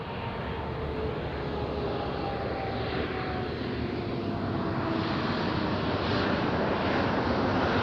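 A Ryanair airliner arriving from Lisbon at Madeira Island Airport gives a steady, broad jet roar that fills the clip and holds at an even level throughout.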